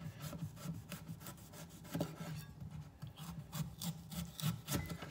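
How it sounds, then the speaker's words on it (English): A sharp kitchen knife saws back and forth through a firm celeriac root, making a steady, quiet rasping scrape with a repeated rhythmic rubbing and no voices. "Now I'm using a sawing motion with my knife."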